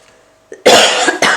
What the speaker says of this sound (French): j'arrête pas de tousser